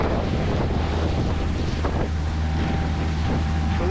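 A motorboat cruises at about 18 knots, its engine a steady low drone under heavy wind rush and water noise against the hull, loud and unbroken.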